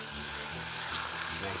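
Chicken sizzles in olive oil in a hot pan, making a steady, close broadband hiss throughout, with a voice faintly underneath.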